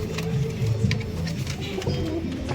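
Pigeons give soft, low repeated coos close by, layered with light rustling and faint background chatter.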